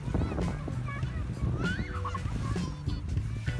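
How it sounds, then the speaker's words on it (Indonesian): Lombok chickens on a mountain trail on Mount Rinjani, giving repeated clucks and squawks at moderate distance amid outdoor background noise. "ini adalah ayam Lombok"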